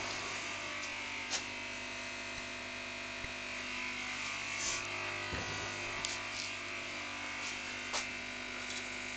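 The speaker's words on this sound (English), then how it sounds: "excuse the noise, that's the coffee machine." A coffee machine runs in a workshop with a steady, close electric whirring hum and buzz that holds for the whole stretch, with a few faint clicks and knocks on top and no talking.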